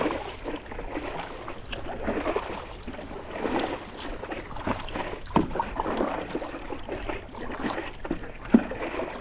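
A kayak is paddled on open sea near a coral reef, with soft repeated paddle strokes, water swishing and gurgling against the hull, and faint wind, all fairly quiet and close.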